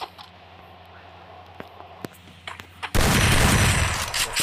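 Gunfire from a headshot in the Free Fire video game, beginning with a few scattered sharp clicks and cracks, then breaking into a loud, dense, sustained burst of shots that runs to the end.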